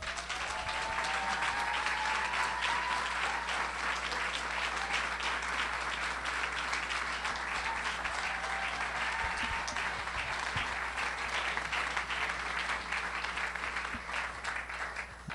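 A crowd at the 2011 Eddy Awards applauds steadily, a dense wash of clapping that runs loud and even for about fifteen seconds before easing slightly at the end.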